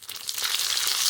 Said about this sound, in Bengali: ফোড়ন ফুটে উঠেছে